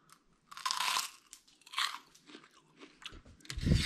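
Crisp, loud crunching of freeze-dried candy from a home freeze dryer, several close bites and chews in quick bursts with no talking.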